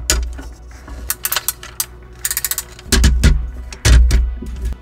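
Heavy-duty ratcheting joints of a Transformers Studio Series 86 Ultra Magnus figure being worked close up, producing rapid sharp clicks in quick runs, followed by a couple of louder clunking ratchet movements.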